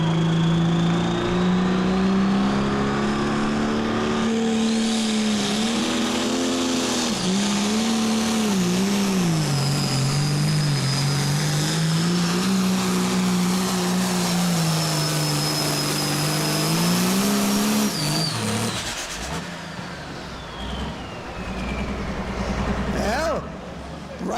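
A pulling tractor's engine roars loudly and steadily at a fair pull as it drags a sled, its pitch wavering with throttle changes before dropping off near the end, with an announcer talking over it.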